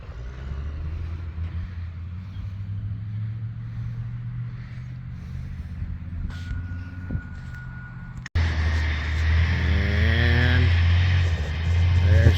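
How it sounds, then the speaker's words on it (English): A heavy concrete truck engine rumbles steadily, then grows louder and closer, with a high whine and a steady tone sounding over the low drone. "Truck number 6 is on the way."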